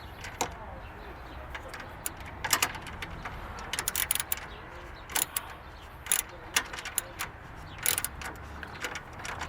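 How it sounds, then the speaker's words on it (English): A ratchet works a 10mm battery bolt loose on a 2016 Toyota Corolla, giving quiet, irregular bursts of sharp metallic clicks with short pauses between them against a low background hum. "I gotta unscrew this bolt."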